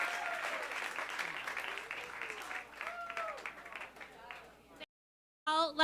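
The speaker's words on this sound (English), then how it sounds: "I want a nice round of applause for Witness and the Global Masters Program" A concert audience gives a sustained round of applause at a music school graduate orientation concert, dense clapping and cheering that thins out, drops to silence, then briefly returns.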